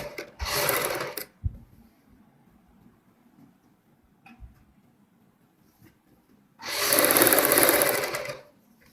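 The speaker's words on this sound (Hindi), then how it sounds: "मैं एक साइड से सिलाई लगा के दिखाऊंगा आपको पहले" Two short bursts of an electric sewing machine stitching piping onto a kurti's half-ban neckline, loud and close, separated by a quiet pause with faint handling noises.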